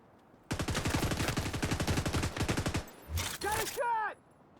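Rapid automatic gunfire in a video game rattles out in one sustained, loud burst of about two and a half seconds, followed by short bursts of speech from a player.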